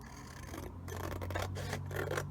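Scissors cutting a small piece of paper, with faint, close snipping and rasping strokes in a quiet room, soft and brief, with no talking.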